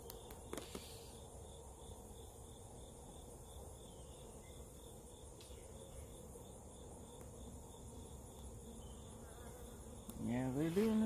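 Honey bees buzz around an outdoor hive in a steady, soft drone with a faint repeating chirp, and a louder burst of activity near the end.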